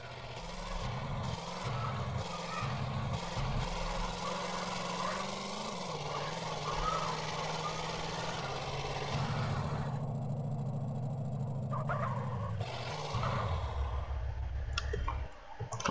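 A car engine running at a low, uneven rumble that rises and dips in pitch, with scattered clicks and scrapes nearby before it drops off near the end.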